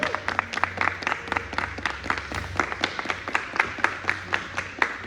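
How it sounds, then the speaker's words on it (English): An audience claps in a lively, sustained round of applause, many hands beating unevenly. "Give her a round of applause for the Teacher of the Year."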